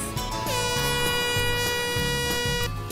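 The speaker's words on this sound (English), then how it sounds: "A prolonged blast is from 4 to 6 seconds." A loud, steady horn blast sounds throughout, deep and sustained with a rich tone, while a low mechanical rumble pulses underneath.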